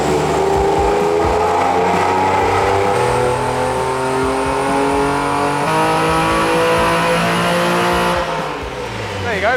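Engine of a modified cheap Porsche revving hard on a dyno power run, a loud sustained roar with rising and shifting tones, cooling fans whirring, cutting back near the end.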